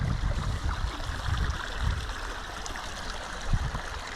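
A river in the Slocan Valley flows outdoors, a soft, steady rushing of water heard at moderate distance, with low gurgling swells and no voices.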